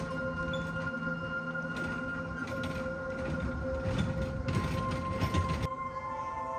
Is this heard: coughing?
no